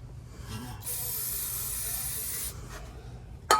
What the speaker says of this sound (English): Let me spray that cleaner.